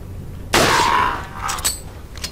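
A single rifle shot in Resident Evil 4 bursts in loud and sharp, its crack trailing into a ringing decay of about a second, followed by a few fainter game clanks.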